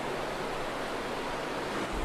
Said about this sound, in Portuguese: A água da fonte de Gion corre aqui até os dias de hoje, mais especificamente aqui embaixo.